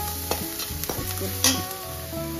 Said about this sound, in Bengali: একটু পেঁয়াজ ফোড়ন দিয়ে ডালটা করছি।